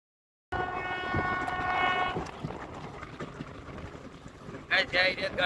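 Passenger train running with the compartment nearly empty, a steady rumble and rattle of the carriage with a sustained horn-like tone early on, voices talking at moments over the noise.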